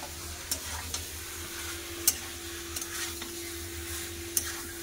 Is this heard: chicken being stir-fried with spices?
yes